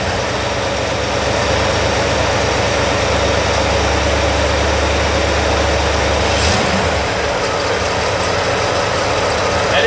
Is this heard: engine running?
yes